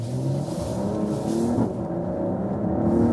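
A Mercedes-AMG GLE 53 Coupé in Sports Plus mode accelerates hard, its engine a deep, loud rumbling growl that climbs in pitch, heard from inside the car.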